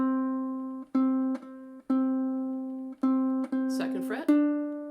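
A ukulele is fingerpicked in a steady ta-ti-ti rhythm: clear, ringing plucked notes on an open string that sustain and decay between plucks, played alone and close up.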